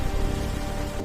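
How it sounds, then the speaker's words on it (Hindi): Heavy night rainfall pouring down steadily, a dense wash of hiss with faint low rumble, continuous and fairly close, alone for about a second. "उस रात तेज बारिश हुई।"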